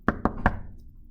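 Three sharp taps in quick succession, Morse code dots knocked out on a hard surface, close and clear, then fading to quiet.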